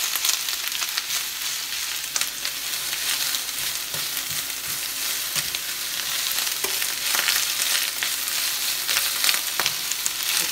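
Cabbage leaves and tuna fry in a hot pan, a dense continuous crackling sizzle with frequent small scrapes and stirs, close and steady for the whole stretch.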